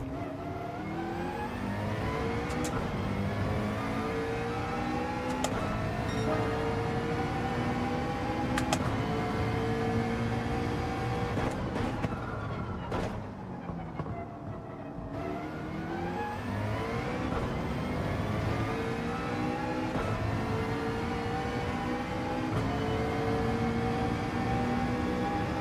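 Racing car engine in Gran Turismo 7, droning steadily and loud for the whole stretch, its pitch climbing and dropping through gear changes with a brief dip partway through.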